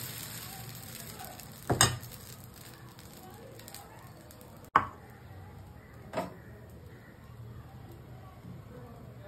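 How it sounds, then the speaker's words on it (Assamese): Dosa batter cooks on a hot pan with a quiet, steady sizzle, punctuated by a few sharp knocks and clatters of the utensil against the pan. "মই এতিয়া এখন ডোচা বনাই লওঁ"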